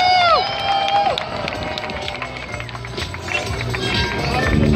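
A crowd claps and cheers for a kite team at a kite-flying event: a dense, steady wash of applause and shouts fills the whole stretch, with a voice briefly audible over it at the start.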